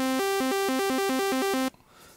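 Basic sawtooth synth playing a polyphonic pattern, bright buzzy stacked tones alternating between two shifting chords in a steady rhythm, loud and alone, then cutting off abruptly into quiet.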